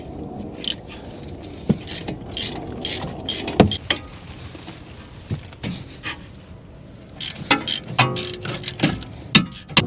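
A 7mm hex ratchet works on the front brake caliper bolts of a 2017 BMW X5, giving irregular metallic clicks, scrapes and taps, close and moderately loud with no talking.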